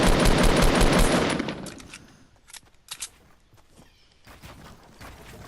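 Rapid automatic gunfire in Fortnite Battle Royale, a loud burst of continuous shots over the first two seconds, followed by a few scattered, fainter single shots and building sounds.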